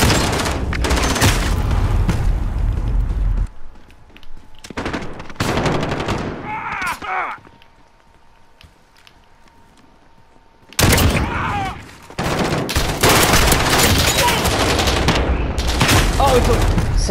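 Semi-automatic gunfire in Call of Duty: Modern Warfare, with loud sharp shots fired in irregular bursts and separate single cracks, a quieter gap midway, then another dense stretch of firing.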